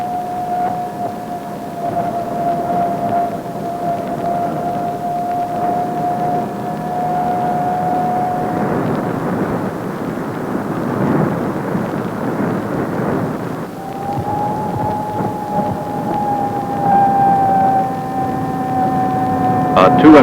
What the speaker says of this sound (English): This sound identifies a 3/4-ton truck.